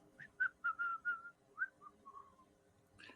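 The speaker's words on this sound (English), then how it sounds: "He overhears that, but walks away whistling." A man whistles a short, wandering tune of several quick notes that drift lower and fade, faint and a little distant, ending with a brief rustle.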